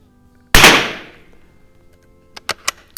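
A Mossberg 146BA tube-fed .22 bolt-action rifle fires one sharp, loud crack outdoors that decays quickly, followed about two seconds later by a few quicker, lighter clicks and snaps.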